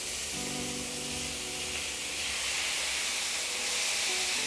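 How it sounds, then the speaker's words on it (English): Beef for tacos sizzles in hot olive oil in a pan over medium-high heat, a steady broadband hiss and crackle with a low hum underneath, no talk. "we're gonna start adding our beef."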